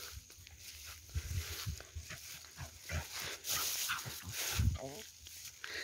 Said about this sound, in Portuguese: Olha a outra cachorra, viu?